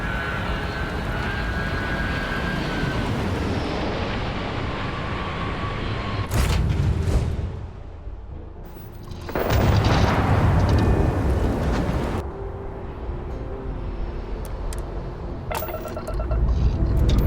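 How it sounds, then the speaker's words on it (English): Spaceship thrusters fire in the video game Starfield as long, loud roaring blasts with abrupt starts and cutoffs, broken by short quieter gaps before the thrust surges again. "Thrusters firing."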